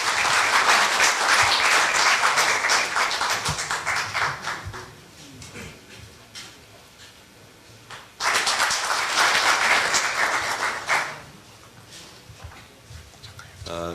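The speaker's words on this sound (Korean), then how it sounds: "큰 박수로 위원장님 맞아주시면 감사하겠습니다" Audience applause welcomes the forum chairman at the opening ceremony of the 6th Hongneung Forum, a loud crowd of clapping in two sustained bursts separated by a quieter stretch.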